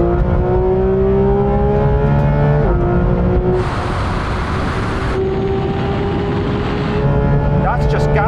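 A Porsche 911 GT3 and GT3 RS accelerate hard side by side from a rolling start in third gear, a loud sustained engine roar climbing steadily in pitch, with a brief shift-like dip partway and a rising high-pitched whine near the end.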